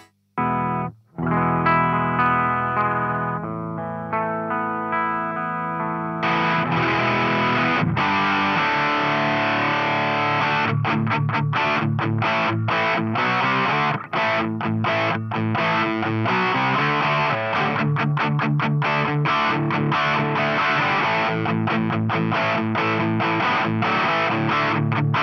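Electric guitar through a Dazatronyx Rad Distortion pedal, Rat-style, thick and saturated, starting with sustained chords then moving into rapid chugging riffs, loud and continuous.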